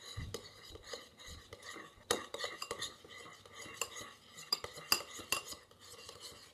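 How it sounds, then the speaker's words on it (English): Deviled egg filling being mixed in a bowl, with repeated scraping and clinking of utensil against the dish in an uneven rhythm, close and moderately loud, no talking. "So then I'm gonna mix it."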